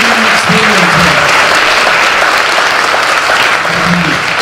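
Audience at a graduate ceremony breaks into sustained applause, a loud, dense wash of clapping hands with a few crowd voices mixed in.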